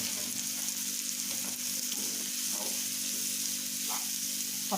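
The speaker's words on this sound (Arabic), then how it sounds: "هقلب في البصل بتاعنا لحد ما ياخد اللون دهبي فاتح" Onions frying in a pan for a chicken and onion tagine, with a steady close sizzle throughout and occasional soft stirring scrapes, no voices.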